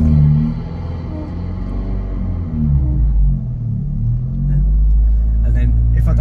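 Manual car engine revving and settling as the clutch bite point is found for a rolling start, a low rumbling drone that rises and falls in pitch, with someone talking over it.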